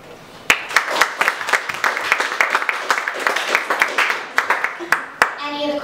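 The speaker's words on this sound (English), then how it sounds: "Give a big round of applause." An audience claps through a university faculty question-and-answer session, a dense crackle of many hands with sharper individual claps standing out, steady and close, fading slightly near the end.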